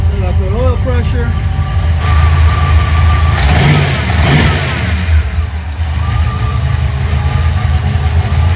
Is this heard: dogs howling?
no